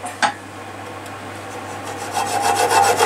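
A hand saw cuts through wood with a faint rasp at first, then settles into quick, steady back-and-forth strokes that grow louder toward the end. Nobody speaks.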